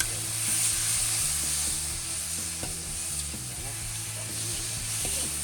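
Ginger and garlic sizzle steadily in hot oil in a pan as they are sautéed for papaya, with scattered scraping and clinking of a spoon against the pan.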